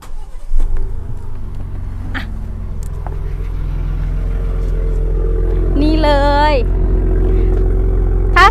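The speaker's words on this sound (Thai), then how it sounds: "จะลองสตาร์ทเครื่องนะคะแล้วให้ฟังเสียงท่อ" A 2022 Ford Raptor pickup with a 3.0L V6 of 397 horsepower starts up. Sharp starter clatter gives way to a loud, deep exhaust rumble that builds and holds steady, with a brief vocal exclamation over it.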